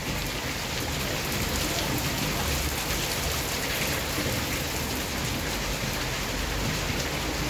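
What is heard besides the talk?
light rain falling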